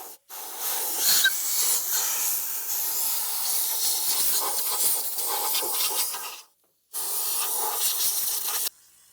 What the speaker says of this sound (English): hit them with some more WD-40 and then some ATF